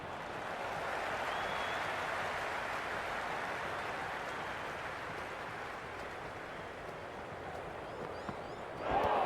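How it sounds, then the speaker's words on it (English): Stadium crowd in the cricket video game Cricket 26 roars in a broad, sustained wash of cheering and applause, swelling early then easing slightly before a sharp lift at the very end, with no talk over it. "the excitement emanating from this crowd at the moment"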